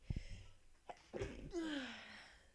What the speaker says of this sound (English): Sorry, had to sneeze. That was a really weird sneeze.